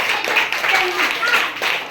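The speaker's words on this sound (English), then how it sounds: "Clap for star group" Children clap together for a group during a summer camp quiz, a dense, steady patter of many small hands lasting a couple of seconds, with voices talking over it.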